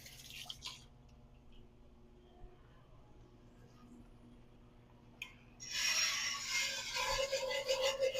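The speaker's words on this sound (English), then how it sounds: "Bubbling nicely." A grape tomato pan sauce bubbles on a kitchen stove, with faint drips and quiet ticking at first, then breaking into a louder, close, crackling sizzle and bubbling for the last few seconds.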